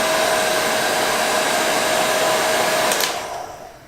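A PW-9000 smart wall-mounted hair dryer runs with a loud, close, steady whir, then switches off and winds down near the end.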